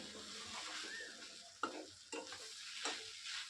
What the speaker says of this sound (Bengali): এইভাবে নেড়ে নেড়ে এটাকে মিশিয়ে নিতে হবে